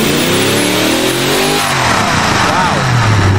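A car engine in the Automation driving game, a cheap twin-turbo 200mph sports car build, revs hard and loud, rising and falling in pitch through several sweeps as it accelerates, with a voice talking over parts of it.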